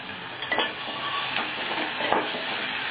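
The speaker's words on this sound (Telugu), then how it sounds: "ఇప్పుడు ఆయిల్ వేడయ్యాక ఆనియన్స్ వేసుకుందాం" Onions frying in a couple tablespoons of hot oil in a pressure cooker, a steady close sizzle with occasional stir clinks, no talking.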